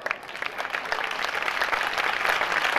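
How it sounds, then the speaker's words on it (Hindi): An audience claps during a Jain religious discourse in Dungarpur, a broad continuous patter of many hands that swells slightly louder toward the end, with no speech over it. "और ताली बजाते रहो"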